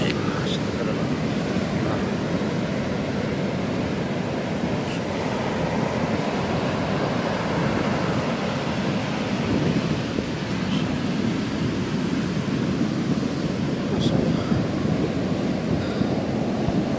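Waves at sea in the northern waters, a constant rushing surge of water with wind buffeting the microphone, steady and loud throughout with no breaks, faint voices underneath.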